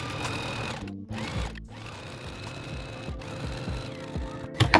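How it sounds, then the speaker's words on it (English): A sewing machine stitching fabric together runs in a close, steady whirring chatter of rapid needle strokes, with brief pauses and a few clicks near the end. "then we're gonna sew everything together"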